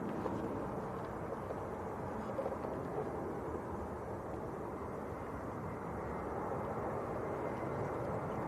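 Steady, broad jet roar of a Lufthansa Airbus A320 at Manchester Airport, a continuous moderately distant rumble holding level throughout with no talk.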